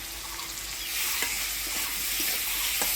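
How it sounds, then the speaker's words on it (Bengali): Potatoes with turmeric and salt are stirred in a hot frying pan, giving a continuous close sizzle broken by a few sharp spatula scrapes and taps against the pan. "হলুদ লবণ দিয়ে আলুটা নাড়াচাড়া করে নিলাম"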